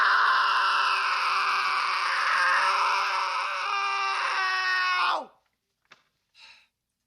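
A long, loud, high-pitched scream holds for about five seconds, then cuts off, followed by a couple of faint short sounds.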